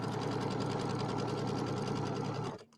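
A freshly serviced sewing machine runs in a steady, fast mechanical whir while stitching an Easter settee pillow, heard close and alone, then cuts off abruptly at the end.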